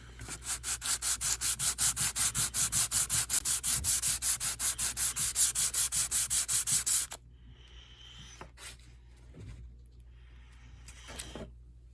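A thin brass sheet sanded by hand for model locomotive radiators: fast, even back-and-forth rasping strokes, close and loud, for about seven seconds, then quiet with a few faint handling noises.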